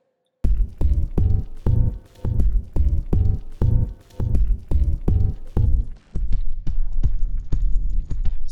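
A synth sound pitched far down into sub bass pulses in a steady series of deep, throbbing hits, about a dozen evenly spaced booms, with a thinner, hissier texture near the end.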